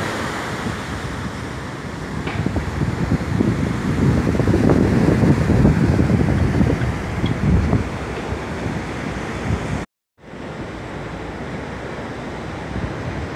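Sea waves roll and wash onto a beach in Da Nang, Vietnam, a broad, continuous surf roar mixed with gusty wind buffeting the microphone, cut by a brief break of silence near the end.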